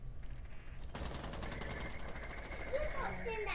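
Rapid automatic gunfire in the video game Rainbow Six Siege, a fast, loud burst of shots starting about a second in and continuing steadily to the end, with voices faintly underneath.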